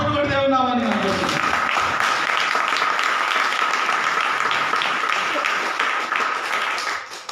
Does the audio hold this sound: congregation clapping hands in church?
yes